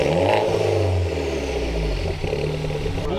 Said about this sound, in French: Le bruit est très rauque. Il est très rond,